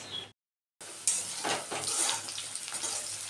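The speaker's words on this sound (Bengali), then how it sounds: "একটু আলু ভাজা করে নিচ্ছি" Potatoes fry in a pan with a soft, steady sizzle and faint stirring scrapes, quiet and close, after a brief silent gap at the start.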